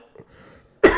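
A single sudden, loud cough bursts out near the end after a quiet stretch holding only faint breathy throat sounds, from a person ill with Covid.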